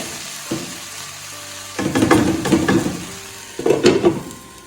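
Crispy soya chunks fry in a pan, a soft steady sizzle at first that swells into louder, busier bursts of crackling and stirring, close and without talk.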